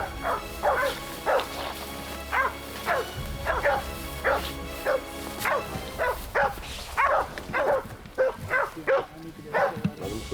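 Bay dogs barking excitedly while chasing a wild boar, a rapid, irregular string of sharp barks and yips at moderate distance, some overlapping, with a faint voice underneath.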